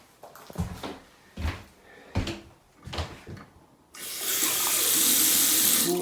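A few knocks and clunks of doors or cupboards, then water gushes loudly from a newly plumbed tap, a steady close hiss that runs on for the last two seconds.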